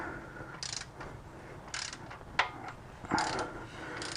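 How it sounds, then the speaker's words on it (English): A Kia Sportage engine's crankshaft is turned slowly by hand with the timing gears fitted, giving soft irregular mechanical clicks and ratcheting, with a sharper knock midway and a brief louder clatter near the end, close and fairly quiet. "now we're going to spin the crankshaft around and make sure that the timing marks line"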